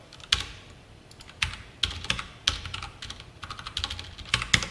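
Typing on a computer keyboard while writing code, with irregular clusters of close, crisp keystrokes and short pauses between bursts.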